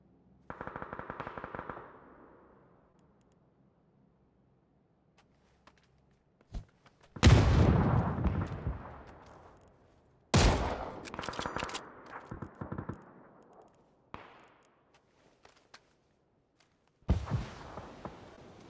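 Automatic gunfire rattles in PUBG in several separate bursts, a rapid string at the start, then heavy loud volleys later with a final burst near the end, with quiet stretches between.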